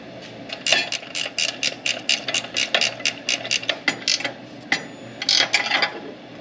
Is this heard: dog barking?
no